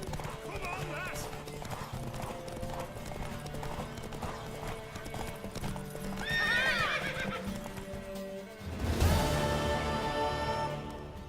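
A mare gallops in a race in the video game The Witcher 3, with steady rhythmic hoofbeats, a loud whinny partway through and a surge of sound near the end, while voices talk over it.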